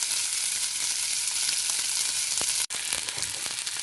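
Steak frying in a crowded pan: a close, steady, bright sizzle and hiss that runs throughout, broken by one very brief dropout, with no voices.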